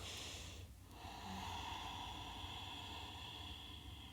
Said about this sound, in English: And you're welcome to use your Ujjayi breath if you like.